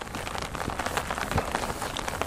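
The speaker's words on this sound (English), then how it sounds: "Been raining for the last couple hours." Steady rain patters on surfaces at a bike campsite, a continuous dense drumming of drops close by with no voices.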